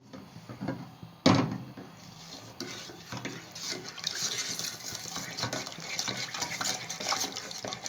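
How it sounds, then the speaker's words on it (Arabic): Butter, oil and sugar stirred in a pot on a stovetop, with a soft spoon scraping and clinking against the pot, one sharp knock early on, and gentle continuous stirring after. "وهنقلب المكونات مع بعض لحد ما تغلي"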